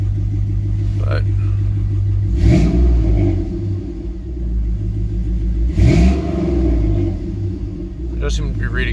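A car engine idles steadily around 600 RPM while warming up, with a low, even rumble, and voices talk over it throughout.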